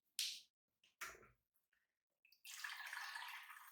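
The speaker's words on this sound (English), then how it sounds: "I'll just pop a bit of boiling water in there" Boiling water is poured into a pan with leftover lard while making a vintage cup bird feeder, giving a few brief splashes, then a steady splashing pour near the end.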